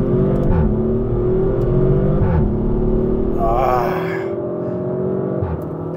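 BMW M3 Competition or ABT Audi RS4 launching at a quarter-mile drag race start, a loud, steady engine roar with rising pitch through the gears, heard up close from inside the car amid faint cabin noise.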